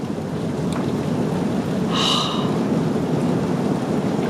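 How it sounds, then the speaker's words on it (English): A deep, continuous rumble of thunder rolls under heavy, steady rain during a severe thunderstorm with hail, the storm noise loud and broad throughout. "Listen to that thunder."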